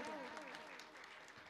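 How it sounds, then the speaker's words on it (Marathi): Faint applause from a kirtan audience for the singers and musicians, a soft steady patter of clapping under a voice that is talking. "वादकासाठी जोरदार टाळ्या होऊ द्या."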